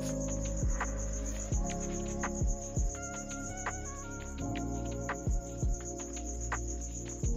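Crickets dropped in as food for pet geckos chirp steadily and close, a continuous insect trill with repeated sharp taps and rustles throughout.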